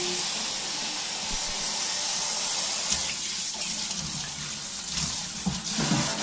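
Boneless chicken pieces are washed in a bowl under a running kitchen tap, a steady hiss of flowing water with splashy bursts toward the end, close by and without talk.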